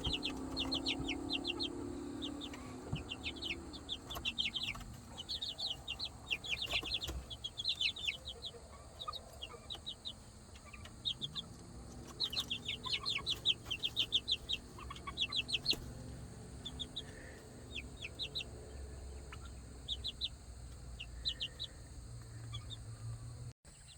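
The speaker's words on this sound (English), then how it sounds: "just checking in with the chickens a little bit" Backyard chickens, recently grown chicks now living outdoors on a self-sufficient homestead, cluck steadily and chirp in quick bursts at close range, with no talk and a constant low background hum.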